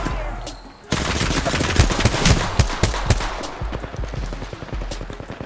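Rapid automatic weapon fire in Apex Legends, with loud, dense bursts of shots rattling at close range and continuing steadily through the clip.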